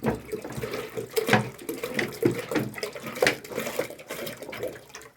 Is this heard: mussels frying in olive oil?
no